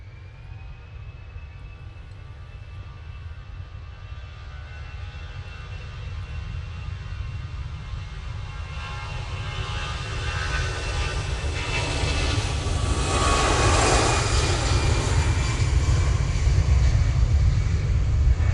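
An easyJet Airbus A320-200 jet departing Manchester Airport, its engine roar building steadily from a distant hum to a loud, close rushing peak near the end.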